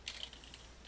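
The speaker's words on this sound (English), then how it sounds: "I'm going to type in the width, 960" Close, quick keystrokes on a computer keyboard: a short burst of typing with a few sharper key clicks and no voices.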